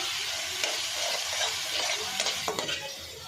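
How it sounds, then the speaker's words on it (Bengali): Turmeric spice paste fries in oil for a home-style poa fish curry, giving a dense, close sizzle with brief clinks and scrapes from stirring in the pan. "আর আমি তেলের সাথে আগে হলুদটা ভেজে নিচ্ছি"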